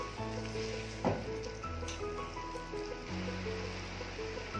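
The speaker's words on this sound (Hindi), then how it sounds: "अब हम इसमें साथ ही लहसुन का पेस्ट शामिल कर देंगे और इसको भी साथ ही फ्राई करेंगे।" Garlic paste fries in a pan with a steady, moderate sizzle, while sustained tonal music hums in the background throughout.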